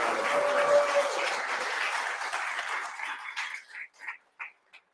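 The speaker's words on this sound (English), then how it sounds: "Give us a clap." A workshop audience claps in a sustained burst that thins out toward the end into a few scattered, separate claps.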